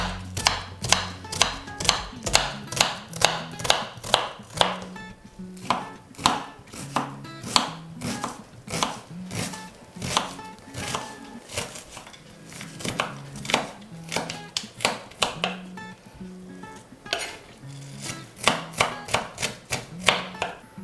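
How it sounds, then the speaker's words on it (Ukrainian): Steady, sharp knife chops strike a cutting board in fast repeated bursts as an onion is finely diced, close and crisp, with brief pauses between runs and no voices. "одну цибульку ми поріжемо мілким кубиком"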